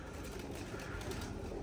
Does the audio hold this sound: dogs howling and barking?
no